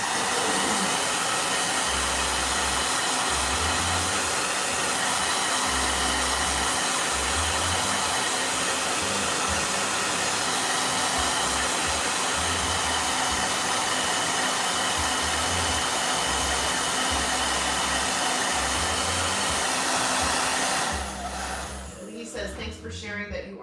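A blow dryer, used while painting, roars close and loud in a steady whoosh for about twenty seconds before cutting off, with a low pulsing hum beneath and talk mixed in.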